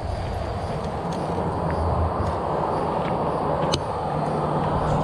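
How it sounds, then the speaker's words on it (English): Cars passing on a road beside a bike trail at the Santos Trailhead of the Cross Florida Greenway, a continuous low traffic rumble and tire hiss at moderate distance, steady throughout with no talk. "You can hear the cars."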